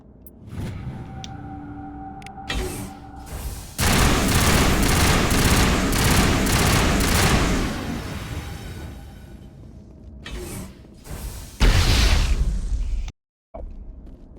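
Sustained, loud combat gunfire from Mass Effect Legendary Edition, with a few early shots building into a long, dense fusillade of rapid bursts. A sharp burst near the end cuts off abruptly.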